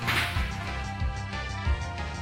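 Tackle attack from a Pokémon video game lands with sharp whip-like thwacks, three quick hits roughly a beat apart over busy game music.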